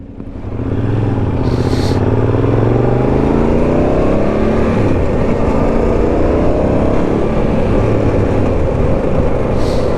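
Yamaha TRX 850 motorcycle with racing pipes, its parallel-twin engine droning loud and close as it pulls through the gears, a deep throbbing rumble rising steadily and holding for the whole stretch.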